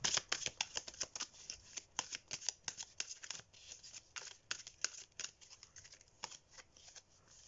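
Indigo and Love oracle cards are shuffled and drawn for a tarot reading, a rapid run of crisp, close riffling card flicks that slowly loosens into softer, spaced slaps.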